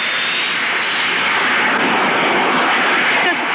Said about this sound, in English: Does the plane always come down this fast?